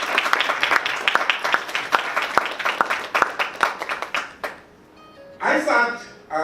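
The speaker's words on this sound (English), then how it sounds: "So I think they should have a tremendous round of applause for this." An audience at a business and investment forum claps for about four seconds, with distinct, fairly sparse claps in an uneven rhythm. The applause fades into quiet, and then a voice begins speaking.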